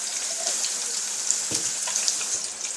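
Hot water pours into a cooking pot while Liberian-style attieke is being made, a continuous bright splashing gush, close and fairly loud, with one brief clunk partway through.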